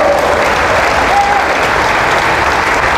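A worship congregation in Culdesac, Sun Valley, Parañaque clapping together: dense, loud, continuous applause filling the room throughout, with no voices standing out.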